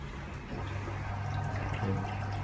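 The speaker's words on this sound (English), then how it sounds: "Water is actually flowing in" Faint steady rush of water flowing into a washing machine as it fills, continuous and low, with a soft mechanical hum underneath.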